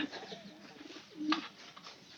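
Soft coos of domestic pigeons in a quiet setting, one clearer coo rising briefly above a faint background murmur.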